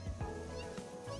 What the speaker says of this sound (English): There's kittens at this spot too?